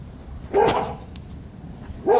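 Two sharp dog barks about a second and a half apart, close and fairly loud, with quiet background between them.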